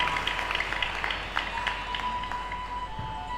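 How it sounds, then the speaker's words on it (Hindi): Applause from an audience at a spiritual discourse by Swami Shri Hari Chaitan, a steady wash of clapping with a constant low hum beneath it, moderately loud and continuous. "जोरदार तालियों से स्वागत कीजिए"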